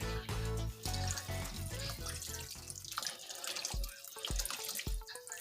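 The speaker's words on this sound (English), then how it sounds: "Here I filled up a can, the empty tomato can, I filled it up with water." Tap water pours into an empty tomato can nearby, a splashing, gurgling fill that thins out toward the end into a few separate splashes and drips.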